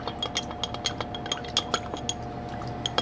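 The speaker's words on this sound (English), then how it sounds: "we are still gonna give that a stir to incorporate the honey and the rum together" A spoon stirs honey and rum in a glass, making a steady run of light, ringing clinks against the glass, close and clear with no voices.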